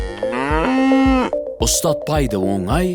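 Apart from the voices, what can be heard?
cow mooing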